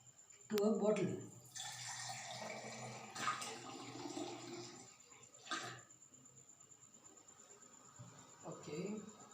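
Colored water is poured into a bottle during a school science experiment, giving a splashing, gurgling pour that comes in a few bursts at moderate level with quieter gaps between them.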